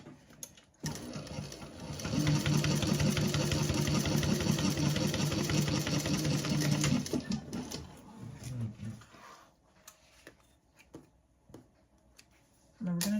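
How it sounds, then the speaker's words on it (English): A sewing machine runs steadily for about five seconds, top stitching along a lining seam with a rapid mechanical whir, then stops and gives way to softer handling noises and a voice talking quietly. "We're going to top stitch"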